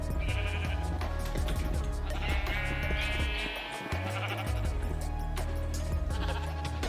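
Sheep in the video game Minecraft bleat repeatedly over a dense, steady bed of game music and ambience, the calls loud and close with short wavering cries spaced through the clip.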